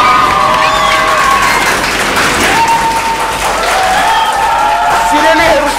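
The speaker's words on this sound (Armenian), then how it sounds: "Եվս մեկ անգամ ծափահարություն է" Audience applause fills a televised Armenian treasure-island quiz show, a steady dense wash of clapping from a studio crowd with some cheering, while a host's voice speaks over it.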